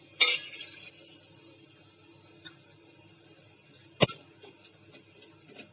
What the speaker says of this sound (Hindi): मसाले आप सुन सकते हैं कैसे तड़क रहे हैं